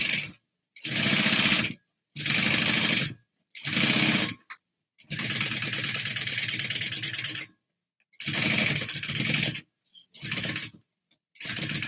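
A sewing machine bastes fabric for a satchel in repeated bursts of fast, steady stitching, each run lasting one to three seconds and separated by silent pauses, close and loud with no talking.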